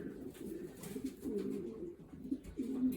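Racing pigeons coo in low, rolling murmurs while being basketed for races, several birds close by in a continuous soft burble with no talking.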